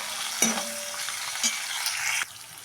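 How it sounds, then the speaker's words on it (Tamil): Onion frying in a pan for a meal maker gravy, a soft sizzle with a couple of brief clinks and stirring scrapes, fairly quiet and close, ending abruptly. "இதில் வெங்காயம் கொஞ்சம் வதங்கட்டும்"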